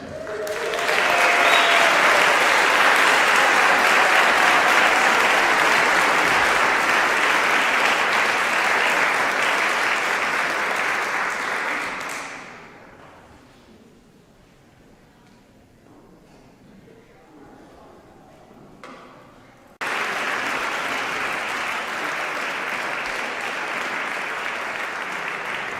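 A concert audience at the Duluth Armory gives a warm welcome to performers Jake and Nick at a tribute concert, with loud, dense clapping lasting about twelve seconds, fading to quiet, then a second burst of applause.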